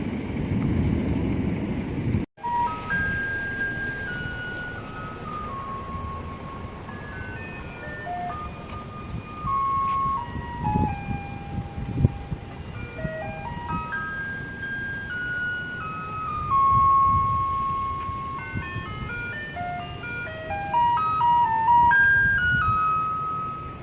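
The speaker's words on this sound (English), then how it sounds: "This trash garbage collection sound is unique to Kaohsiung because you don't hear this in Taipei" A garbage collection truck in Kaohsiung, Taiwan, plays its looping electronic melody over street noise and traffic rumble, moderately loud and slightly distant, with a sharp knock early on.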